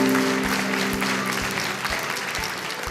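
An audience claps together after an answer on a quiz show, a dense burst of applause that holds steady and eases slightly over three seconds, with a faint sustained tone underneath.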